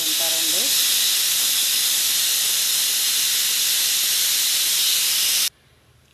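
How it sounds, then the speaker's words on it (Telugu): Pressure cooker on a stove, cooking carrot halwa with cashews, almonds, raisins and ghee, lets out one loud, steady steam whistle-hiss lasting about five seconds before cutting off abruptly to near silence. "ఇంకా ఒక విజిల్ వచ్చింది కదా సరిపోతుంది"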